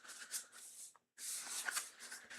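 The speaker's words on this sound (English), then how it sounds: "That's a good shuffle." Tarot cards are shuffled in close, steady riffling bursts, broken by one brief pause before the rapid papery shuffling resumes.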